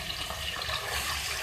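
Water runs and pours steadily into a clay handi of frying beef karahi, a continuous close splashing hiss with no pauses.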